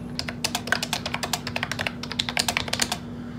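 Rapid bursts of keystrokes on a MOFii Phoenix Bluetooth keyboard with hexagon keycaps, a steady run of crisp close clicks and taps with a faint constant hum underneath and no talking.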